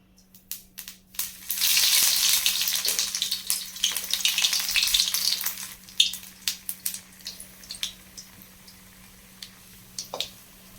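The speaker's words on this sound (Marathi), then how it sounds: "तर आपण एक कटलेट सोडून ते व्यवस्थित तळून घेऊया" A veg cutlet deep-frying in hot oil on a medium flame, with a loud steady sizzle that builds and then settles into lighter crackles and pops, heard alone.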